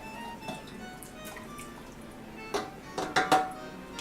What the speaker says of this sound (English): I'll get a vinaigrette dressing, and I'll just go ahead and pour that in the bottom of it.